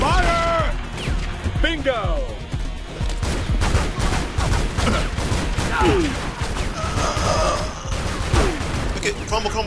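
Rapid bursts of gunfire from the video game Tomb Raider Legend crackle through the scene, dense and loud with crashes mixed in, while a player talks and shouts over the shooting.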